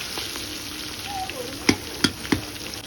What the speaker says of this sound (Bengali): তোমরা দেখো মাছগুলো কিন্তু পুরো লাল লাল করে ডিপ ফ্রাই করা হচ্ছে মচমচে